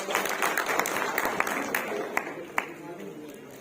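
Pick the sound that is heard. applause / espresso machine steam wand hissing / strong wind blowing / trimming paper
applause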